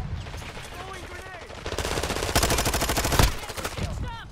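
Gunfire in Call of Duty Warzone, a burst of fast automatic shots building in the middle, near and fairly loud, with players talking before and around it.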